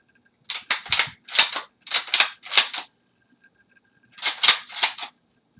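The bolts of unloaded M91/30 and Type 53 rifles are worked by hand, giving crisp metallic clacks in a rhythmic burst of about eight, then a pause and another short run, close and clear.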